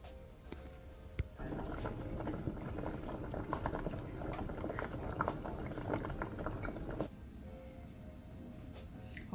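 Potatoes boiling in a pot of water, a steady dense bubbling and popping that runs nearly the whole time, close and moderately loud, with a brief quieter moment near the start.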